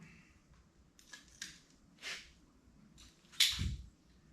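A few quiet, crisp slicing and snipping sounds from a razor blade, spaced irregularly, ending in a sharper cut with a soft thump, close and isolated.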